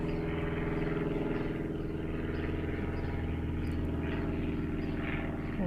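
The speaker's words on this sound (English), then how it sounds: "there might be more than one plane today. I'm sure you can hear that one" Propeller plane flying overhead on a calm day in an aerospace community, a steady continuous engine drone holding at a moderate distance throughout, with no talk.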